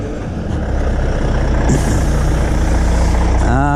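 A loaded sand truck pulls away beside a residential complex, its heavy diesel rumbling steadily and close. An air-brake hiss bursts midway, and a rising mechanical whine follows near the end.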